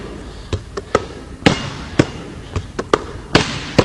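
A basketball bounces repeatedly on a hard floor in an uneven crossover dribbling rhythm, each bounce a sharp, close thud with short gaps between.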